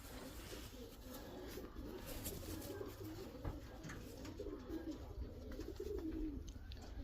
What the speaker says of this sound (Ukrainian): Прошлогодняя голубочка.